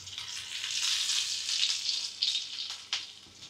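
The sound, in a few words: cumin and garlic tempering sizzling in oil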